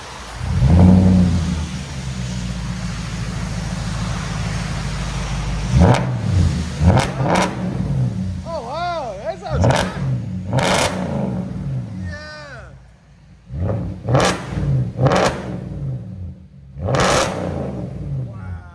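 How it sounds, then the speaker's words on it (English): A loud straight-piped 2004 Audi S4 4.2L V8 idles with a deep burble, then revs repeatedly in sharp, roaring bursts that crackle on the way down, with voices talking between. "Audi S4 V8 stick shift."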